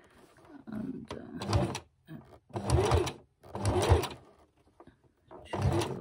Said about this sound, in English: my machine doesn't like triple stitching over pins